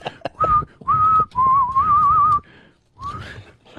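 A man whistles a wavering tune in several clear, sustained phrases with short breaks between them, close and alone with no talking.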